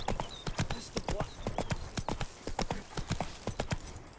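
Horse hooves clip-clop at a steady trot in The Witcher 3 video game, close and continuous throughout.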